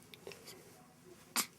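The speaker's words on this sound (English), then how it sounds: "Hiccups and sneezes. He sneezes about twice a day." A baby gives a single short, sharp sneeze near the end, preceded by faint breathy sounds in a quiet room.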